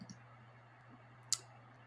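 A single crisp computer mouse click stands out sharply near the end, with a faint earlier tick over a quiet electrical hum.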